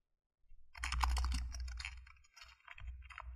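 Rapid typing on a computer keyboard while entering CSS code, a close, dense run of key clicks with a brief pause before a final short burst.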